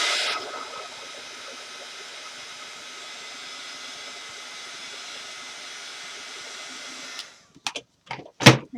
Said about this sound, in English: I'm just going to speed it along real quick with my heat tool